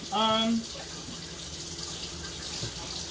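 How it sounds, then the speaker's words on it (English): Kitchen water tap running steadily, a soft, even rush of water near a sink while pasta cooks, following a brief louder tone at the start. "over here, let me turn this water off"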